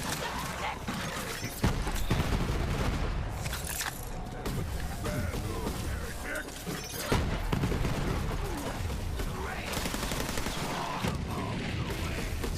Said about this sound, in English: Shooting a Nagata grenade